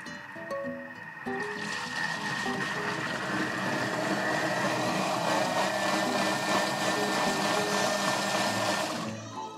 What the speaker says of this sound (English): I'm gonna rotate the knob till to the green marking, and then it's gonna mix everything for 5 seconds